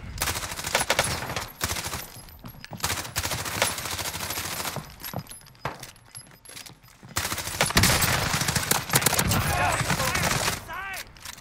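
Bursts of automatic gunfire and scattered single shots ring out in Call of Duty Warzone, loud and close, with players talking excitedly over the combat.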